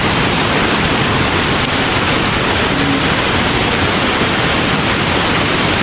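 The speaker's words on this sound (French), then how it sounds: "En fait c'est vraiment le lac au mini-cascade quoi" A waterfall at the Plitvice Lakes in Croatia, where small cascades spill between lakes, gives a loud, close, unbroken roar of rushing water with no voices.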